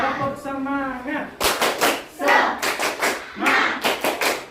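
A classroom of schoolchildren chants together, then claps in a rhythmic spirit-clap pattern, a series of loud, sharp, close bursts in quick groups with voices mixed in.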